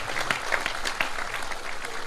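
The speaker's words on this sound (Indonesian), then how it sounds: "Sekarang tepuk tangan untuk Anda semua" An audience claps in a short burst of applause, a dense patter of many hands at moderate distance.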